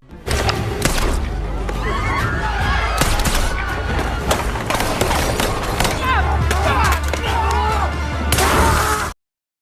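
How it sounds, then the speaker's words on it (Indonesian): Gunfire from a yakuza gangster shootout with a female hitman in a film, sharp broadband shots and thuds cracking out repeatedly across the scene, loud and close, with a last dense burst near the end and some voices mixed in. "Aksi baku tembak pun terjadi di antara mereka."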